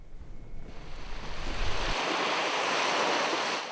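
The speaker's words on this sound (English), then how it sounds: "The sea is very calm." Calm sea waves wash steadily onto a Normandy beach at sunrise, a broad continuous hiss of surf that swells and stays even, with some low wind rumble early on and no voices.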